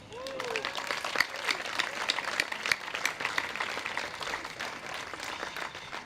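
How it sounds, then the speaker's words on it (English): Outdoor crowd clapping at a building groundbreaking ceremony in downtown Fargo, a steady moderate wash of many hands lasting the whole stretch, with faint voices mixed in. "So we'd like to give them a round of applause."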